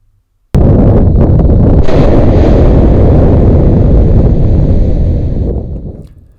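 A sudden, massive volcanic blast erupts from the crater of Yasur volcano and becomes a sustained, roaring rumble that persists for several seconds before slowly fading, with wind buffeting the microphone.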